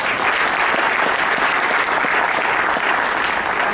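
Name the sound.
audience applause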